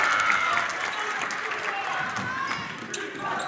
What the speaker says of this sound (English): You can hear the Abbotsford fans cheering a defense